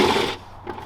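A power tool on a BMW whirs loudly for a moment while spinning off a bolt, then cuts out, leaving faint clicks and handling noise.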